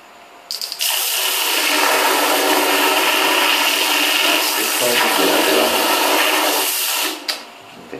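A cistern-less toilet flushed by hand, water poured in a strong steady gush that rushes and splashes for about six seconds before cutting off, loud and close with no talk over it.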